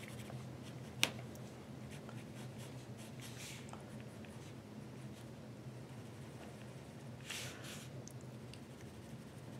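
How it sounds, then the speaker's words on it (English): A dark pencil drawing on paper, with soft continuous scratchy strokes and a few louder swishes, quiet and close, alone over faint low background hum. "now let's use the pencil, darker pencil, and put it together and see how it goes."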